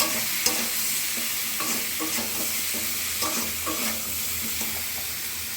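Potatoes with turmeric, salt, chopped tomato and green chili are stir-fried in a pan: a constant sizzle with repeated, rhythmic spatula scrapes and clacks, close and fairly loud, no voices.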